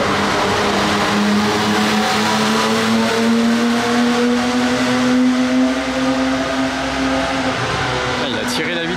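A Bugatti sports car accelerates hard close by, its engine note climbing steadily in pitch before a gear shift near the end, loud and sustained, with a voice speaking over it.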